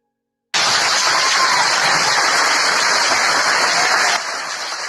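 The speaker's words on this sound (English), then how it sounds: "they're applauding Cuban scientists celebrating their COVID vaccine" Sustained audience applause for Cuban scientists celebrating their COVID vaccine, a dense, loud wash of clapping that starts abruptly and continues steadily before dropping slightly in level near the end.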